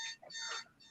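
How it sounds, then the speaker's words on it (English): An alarm clock beeps in short high electronic bursts, two longer tones followed by the start of a third, faint and somewhat distant in a quiet room. "Your alarm's going off."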